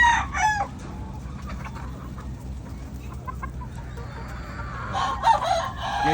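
Young gamefowl stags, a local banded line, crowing and clucking in a pen, with a crow near the start and another near the end over a steady busy background of farm birds.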